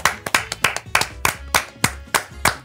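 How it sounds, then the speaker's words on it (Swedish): A handful of people clap for the winner on a Swedish talk show, with sharp, separate hand claps in a loose, uneven rhythm, close and dry with no crowd swell. "Applåder."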